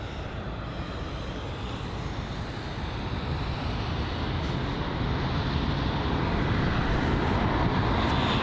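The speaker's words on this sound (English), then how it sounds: "we were interrupted by this British Airways A380" A British Airways Airbus A380 roars past at London Heathrow, a broad, loud jet rumble that swells steadily throughout, heard alone.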